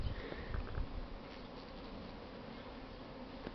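Honey bees buzz around hive frames outdoors, a steady hum of many insects close by with a few louder passes near the start.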